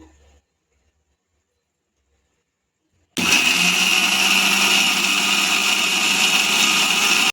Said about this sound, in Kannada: ನಾನಿವಾಗ ಕಾಯಲ್ಲಿಗೆ ಕಾಯಿ ರುಬ್ಕೊಳ್ತೀನಿ ಫ್ರೆಂಡ್ಸ್ ಇದು ಫುಲ್ ಸ್ಮೂತಾಗಿ ರುಬ್ಕೋಬೇಕು